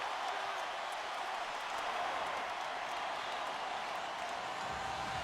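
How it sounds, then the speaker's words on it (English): A basketball arena crowd on its feet during a Celtics versus Lakers game, a steady dense roar of cheering and applause that fills the space evenly and loudly for several seconds, with no break. "The crowd on its feet."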